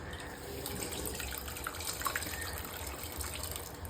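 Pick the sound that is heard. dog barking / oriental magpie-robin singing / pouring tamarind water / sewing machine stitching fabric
pouring tamarind water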